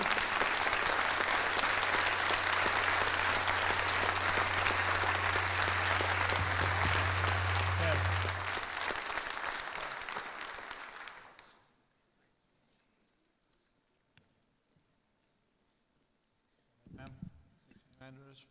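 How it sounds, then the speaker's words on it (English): A crowd at a zoning appeals board meeting claps loudly and steadily in protest for about ten seconds, then the applause fades out to near silence, with a few scattered sounds and a voice near the end. "I would like for those who stand against this project to stand up, clap your hands, make yourselves heard."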